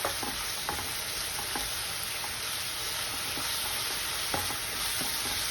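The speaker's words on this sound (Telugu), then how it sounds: "కొంచెం హైలో పెట్టేసి ఒక్కసారి ఇలా తిప్పేస్తే ఆ ఉన్న చెమ్మంతా తీసేసుకుంటుంది" Mint leaves stirred in a hot pan over high heat, a steady soft sizzle with occasional scraping clicks of a spoon against the pan, fairly quiet and close.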